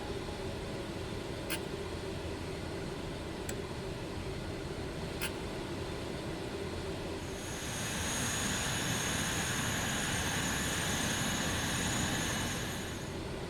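Engines of a Dassault Falcon 50 three-engine business jet spinning up in the MSFS2024 flight simulator: a steady low rumble with a few faint clicks, then a rising whine and hiss that swells louder around the midpoint and holds.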